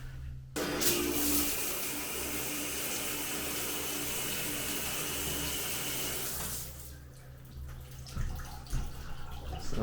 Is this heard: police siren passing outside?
no